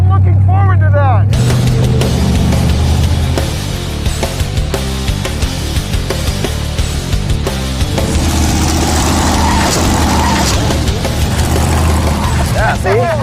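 A Vette kart, a car-powered kart, revs and drives off the end of a ramp, its engine roaring loud and steady while people talk over it.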